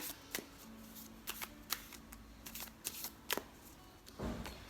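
Oracle cards are shuffled by hand in a series of crisp riffling bursts and snaps, close and clear against a faint background hum, with no talk.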